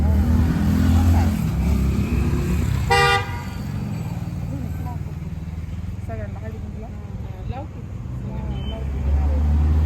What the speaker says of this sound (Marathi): चला ड्रायव्हर गाडी आणा पुढे.